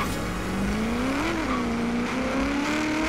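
A car drifts in Forza Horizon 3, its engine holding a steady, rising and falling tone close by throughout, with tire noise underneath and no talking.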